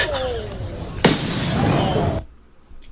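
A firework explodes with a sharp bang during rioting and looting in news footage. A crackling burst and a hiss follow, then cut off abruptly.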